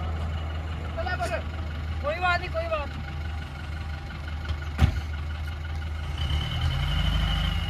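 Near the end, the engine of a vehicle being recovered at night in snow turns over and settles into a rising, low rumbling idle, after faint voices and scattered clicks over a quiet background.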